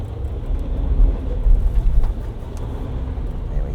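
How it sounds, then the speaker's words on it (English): Ford Everest Tremor accelerating hard from a standing start off-road, traction control working: a steady, loud engine and drivetrain rumble that swells in the middle and stays close throughout, with no voices. "There I can hear the traction control working."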